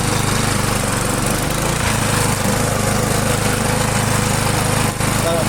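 A Stiga Multiclip Euro 46S self-propelled lawn mower running, its engine a loud, close, steady drone that holds even throughout with only a slight dip near the end.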